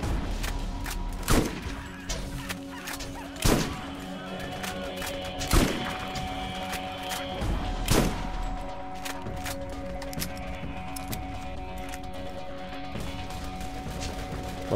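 Shotgun blasts in Borderlands, fighting skags: four loud, widely spaced booms land a couple of seconds apart, each with a sharp crack and fading tail, over a constant low hum of game background.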